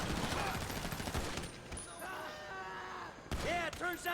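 Pistol and rifle shots ring out in a Grand Theft Auto V shootout, with a rapid cluster of bursts at the start, a quieter lull, and then more sharp shots near the end.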